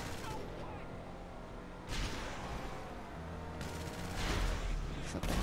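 Bursts of gunfire in Grand Theft Auto V as tyres are shot flat, dense rattling volleys over game noise and engine rumble, with a couple of heavier blasts toward the end.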